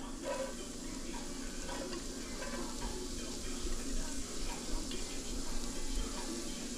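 Carrot hitting a pan over medium heat gives a steady, soft sizzle with faint stirring scrapes that carries on throughout under a low background hum.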